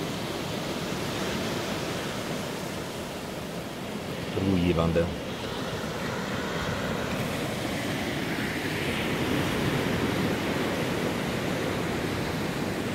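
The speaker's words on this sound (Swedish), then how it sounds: "Man hör vågornas brus." Ocean waves wash onto a sunny Gran Canaria beach in a steady, close, broadband roar that continues throughout, with a brief voice speaking about a third of the way in.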